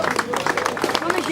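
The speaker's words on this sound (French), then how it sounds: "Allez, on les applaudit encore bien fort." An outdoor crowd at an enduro event in Brionne gives the riders a brief burst of clapping and cheering, with voices mixed into the applause.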